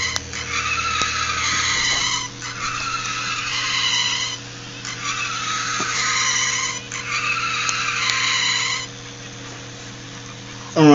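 A wheel on a fischertechnik model run by a TXT controller is dragged along, sliding instead of turning, and gives four sustained squealing scrapes of about two seconds each over a steady low motor hum.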